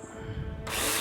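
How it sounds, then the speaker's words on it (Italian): A power drill in the video game Builder Simulator, taking apart scaffolding, with a loud, steady drilling whine that starts suddenly partway through and runs to the end. "dismantle your scaffolding with drill"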